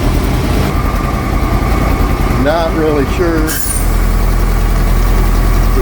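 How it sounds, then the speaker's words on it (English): An International Loadstar truck engine idles steadily with a deep, continuous low rumble close by, while someone speaks briefly over it partway through. "Notice how that idles the engine back down."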